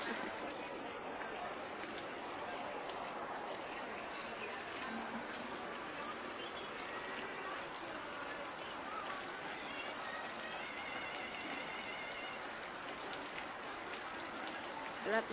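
Steady, dense heavy rain hiss pattering on a tarpaulin, constant and fairly loud throughout with no breaks.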